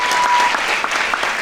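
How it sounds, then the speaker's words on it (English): A crowd at an awards ceremony claps steadily in applause, a dense, close wash of hands with no voices over it. "round of applause"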